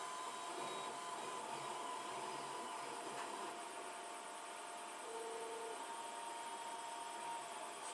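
A 3D printer runs near the end of a print, its steady whirring hum and stepper motor tones continuing evenly throughout at moderate volume with no speech.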